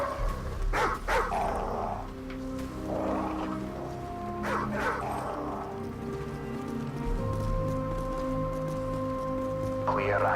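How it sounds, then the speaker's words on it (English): Radioactive dogs in a Call of Duty level bark and snarl in several sharp bursts, set against game noise and music, with players talking over them. "As I remember, there's dogs around here."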